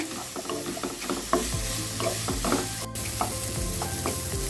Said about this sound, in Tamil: ஹை ஃப்ளேமில் வச்சு நம்ம நல்லா வதக்கிக்கலாங்க.